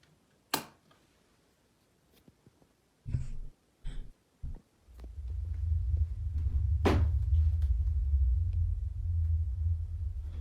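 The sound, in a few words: tapping noises from a door in a paranormal video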